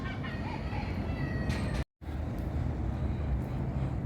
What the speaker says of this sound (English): there's even a cock in the park, or a rooster